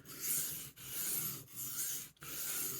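An A.Wright pocket knife blade is drawn across a 1000 grit sharpening stone in three long, even rasping strokes, each separated by a brief pause, close and clear with no talk.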